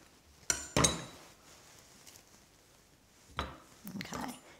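A knife slicing an avocado in half on a kitchen board during food prep, heard as two sharp close knocks of the blade, then a quiet pause and a few softer knocks and scrapes.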